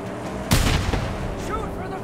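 A car-mounted weapon fires in the Mad Max video game: one loud, sharp blast with a rumbling tail, followed by a few fainter bangs and game noise.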